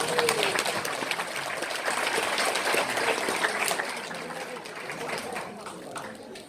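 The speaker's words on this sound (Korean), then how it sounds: "수상하신 분들한테 뜨거운 박수 한번 부탁드립니다." Sustained applause from an audience honouring award winners at a forest interpreters' association evening in 2019, a steady dense wash of clapping lasting throughout without pause.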